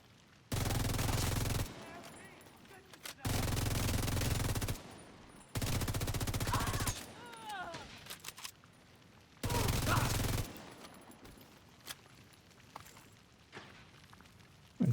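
Sniper gunfire in a video game comes as long, loud bursts of rapid shots separated by short pauses, with quieter game sounds in between.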